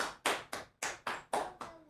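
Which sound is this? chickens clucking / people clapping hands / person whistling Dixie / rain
people clapping hands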